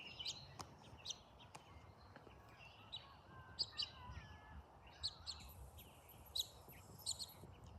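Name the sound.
bird calling outdoors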